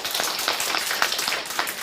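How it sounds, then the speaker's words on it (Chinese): An audience clapping for a participant, steady fast rhythmic applause from a small group, close and fairly loud, with no voices over it. "给他鼓掌一下"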